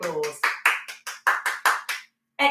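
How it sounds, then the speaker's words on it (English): A small exercise class for older people claps in a quick run of about eight sharp, distinct hand claps, close and fairly loud, after a brief voice at the start. "Give yourselves a very well-earned round of applause."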